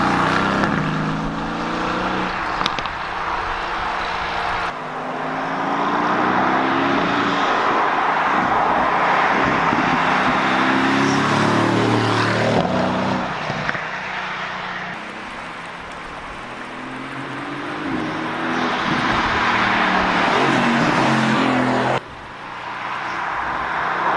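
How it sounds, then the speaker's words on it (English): A Mercedes AMG GTS drives up mountain roads, its engine droning loud and close from inside the cabin, revving up and down through repeated gear changes with brief drops between pulls. "get up into the mountains and drive this car how Mercedes wanted it to be driven"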